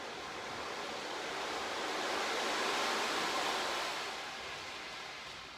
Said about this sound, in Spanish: seguís escuchando de fondo el ruido del mar, cómo juegan las olas con el viento.